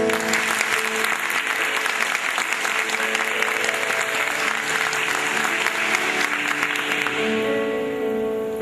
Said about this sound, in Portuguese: essa palavra merece um salve de palmas